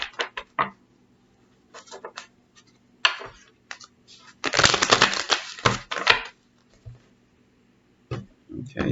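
Tarot cards being shuffled by hand in irregular bursts of riffling and slapping, with short quiet gaps between flurries and a louder run in the middle.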